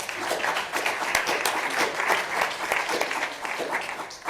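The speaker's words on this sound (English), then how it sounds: "I think they all deserve a round of applause," Sustained applause from a crowd, dense steady clapping filling the room for several seconds without a break.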